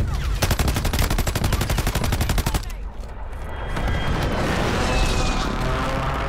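Rapid gunfire and heavy mortar blasts in Call of Duty Warzone on the Vondel map: a fast, evenly spaced burst of shots for about two seconds, then a rumbling explosion with lingering debris noise, loud and close.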